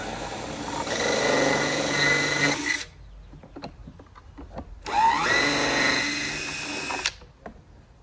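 A cordless power drill bores a hole in a John Deere toy ride-on, two sustained whirring bursts of about two seconds each with a pause of small clicks and handling noise between them.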